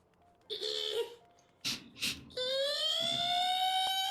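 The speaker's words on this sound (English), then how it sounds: "Planet Fitness lunk alarm." Planet Fitness lunk alarm blaring alone at close range: a few short electronic bursts, then a sustained, loud siren-like harmonic tone that rises slightly and holds steady.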